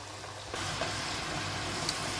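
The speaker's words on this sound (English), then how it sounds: "Then you allow this to fry till it's crispy." Yam pieces frying in hot oil until crispy, a steady close sizzle that jumps up sharply after a quiet half-second start and then holds even.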